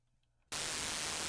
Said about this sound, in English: now we're back at white noise again